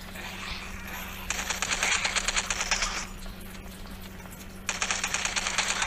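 Rapid automatic gunfire shooting zombies in the video game Death High comes in two loud bursts of fast clattering shots, separated by a quieter pause over a steady low background hum.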